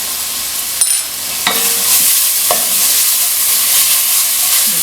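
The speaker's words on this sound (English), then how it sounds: "I'm going to stir it." Fish masala curry with kalonji seeds and dry methi leaves is stirred in a hot pan, a loud close sizzle with a few scraping spoon strokes early on, then steady frying hiss without talk.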